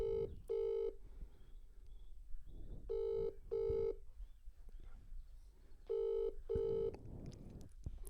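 Telephone call being placed: three pairs of bright dual-tone ring bursts repeat at steady intervals, each pair a quick double ring, heard through a handset line with faint room noise and no talk between rings.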